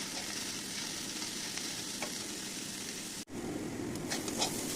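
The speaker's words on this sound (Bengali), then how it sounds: "এটাকে এবারে একটু ফ্রাই করতে হবে।" Cauliflower, onion and garlic fry in a pan with a steady, close, dense sizzle, broken once by a brief clink partway through.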